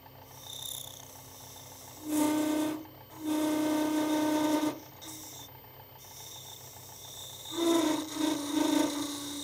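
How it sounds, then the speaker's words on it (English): A narrow parting tool cuts into wood spinning on a lathe, giving three loud tonal scraping bursts of a few seconds each over a low motor hum. "because it works best taking small bites, I'll switch to a narrower parting tool."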